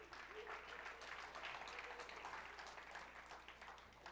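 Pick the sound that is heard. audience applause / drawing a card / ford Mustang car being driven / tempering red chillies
audience applause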